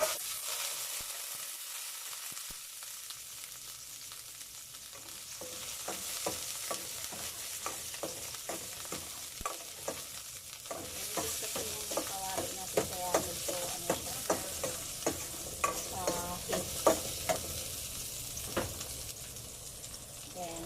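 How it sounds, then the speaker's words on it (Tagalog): Garlic sautés in two to three tablespoons of cooking oil for Filipino pinakbet, a soft sizzle building under a run of rhythmic spatula scrapes and taps against the pan. "Maglagay tayo ng mantika, siguro mga 2 to 3 tablespoon. Isa na natin yung bawang."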